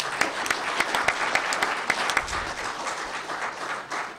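A banquet crowd at a Mars Society conference closing gives a round of applause, a steady clatter of many hands with a few sharper individual claps standing out.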